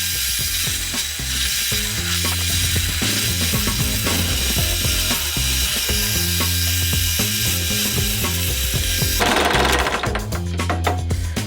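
A pillar drill bores a mortise in wood, grinding and chattering in a steady, rhythmic mechanical churn, close and loud, with no talking.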